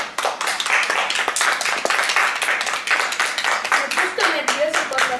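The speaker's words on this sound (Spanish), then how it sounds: "Muy bien, un aplauso." Clapping from a classroom of schoolchildren after a child recites a poem, a dense, steady burst of many hands lasting throughout, with a few voices mixed in near the end.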